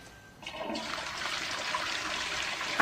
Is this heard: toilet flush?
yes